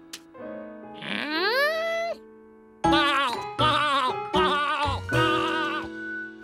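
Cartoon sheep on a farm bleat loudly and clearly: one long, rising bleat, then a pause and four shorter bleats in quick succession, with no talk over them.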